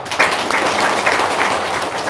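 A seminar audience answers the call for applause with a short burst of clapping, dense and fairly close, lasting about two seconds.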